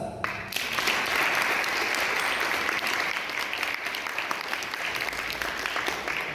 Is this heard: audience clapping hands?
yes